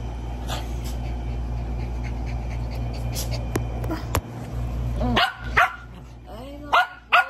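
A dog barks several times near the end, loud close yips and bow-wows following a stretch of quieter background noise and movement.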